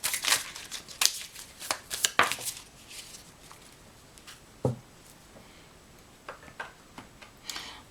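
Tarot cards shuffled by hand during a quiet reading, a series of soft riffling flicks and taps in irregular bursts, close and fairly faint, with no talking.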